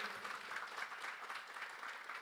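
A crowd at a public hearing in Aracaju applauds with steady, dense clapping, faint and somewhat distant, keeping an even level throughout.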